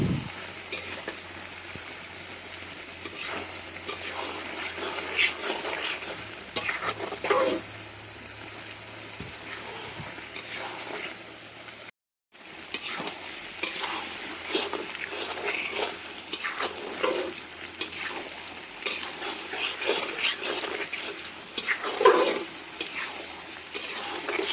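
Duck meat being stirred as it fries in a pan, giving a continuous dense sizzle with rough scraping and clattering strokes throughout, close by, broken by one very brief gap near the middle.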